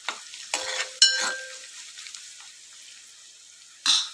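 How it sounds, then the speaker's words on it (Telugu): Onions frying in a pan for a Telugu gongura and moong dal dish: a steady soft sizzle with stirring scrapes. A few louder clatters come near the start, and another burst comes at the end. "ఇప్పుడు ఆనియన్స్ మంచిగా ఫ్రై అయినాయి."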